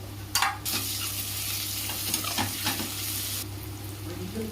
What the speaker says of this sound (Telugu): ఇప్పుడు కొంచెం అల్లం వేసుకొని బాగా కలుపుకొని అది పచ్చివాసన పోయే వరకు కాసేపు ఫ్రై చేసుకోవాలండి వేయించుకోవాలి